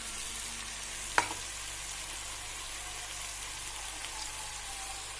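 Chopped banana flower stirred into pork frying in a pan, a steady soft sizzle throughout with one brief clack of a utensil early on.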